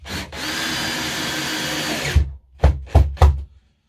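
Power drill driving a 2-inch number 8 screw through a shelf into a wall stud, a loud sustained whine for about two seconds followed by three short quick bursts as the screw tightens, close by.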